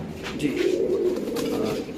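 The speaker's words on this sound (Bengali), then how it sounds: "এখানে আছে আরেক দূর দামাসিন কবুতরের বেবি" Damascene pigeons at a pigeon market give a soft, low rolling coo close by, one drawn-out murmuring call running through most of the moment with no talk over it.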